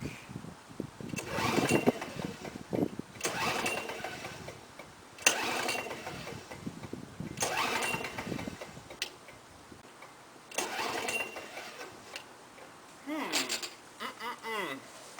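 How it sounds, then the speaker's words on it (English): A Lawnboy 5127 mower sitting since 2001 is cranked cold on choke in repeated bursts, each roughly a second of loud recoil cranking with brief sputters, separated by pauses, and a voice speaks between pulls. "now for the real cold start"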